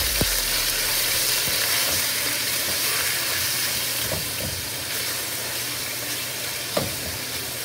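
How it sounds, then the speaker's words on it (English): Beef fries in coconut oil over high heat, giving a loud, continuous sizzle and hiss close up with a few faint clinks of stirring and no voices. "We're gonna fry on a very high heat just for 2 minutes."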